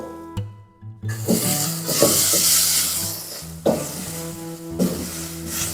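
Indian olives frying with burnt coconut in a pan for a jalpai chutney, stirred steadily: a loud sizzling hiss with repeated scraping strokes at a fairly even rhythm, pausing briefly at the start.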